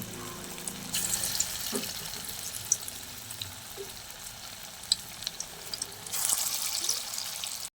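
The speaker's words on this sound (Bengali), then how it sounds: "এবার আমি এঁচড়টাকে গোল গোল বল বল করে আমি তেলে ভেজে নেব।" Jackfruit kofta balls frying in hot oil in a kadai, a steady sizzling hiss that swells louder as balls are added, with scattered pops and light clicks.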